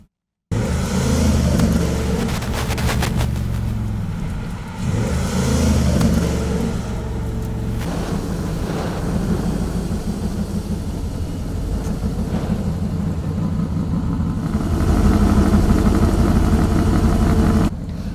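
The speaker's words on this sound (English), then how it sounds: "This Coyote engine really likes to rev." Ford Coyote V8 in a custom performance car revving in an engine bay, a loud throaty idle rising into repeated sharp revs and settling back, with a strong burst of throttle near the end.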